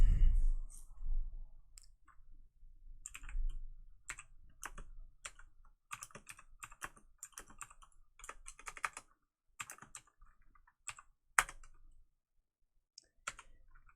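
Rapid keyboard typing, a string of close, crisp key clicks in irregular bursts with short pauses between, no voices.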